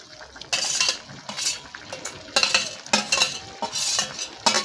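A spatula stirs fried fish heads with bottle gourd in a wok, sounding as repeated scraping strokes over a steady low sizzle, close and fairly loud, with no speech.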